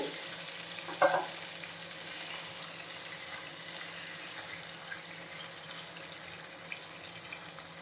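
A half-kilo batch of fish fries in a pan over a medium flame, a soft steady sizzle with a brief louder crackle near the start, otherwise even and quiet throughout.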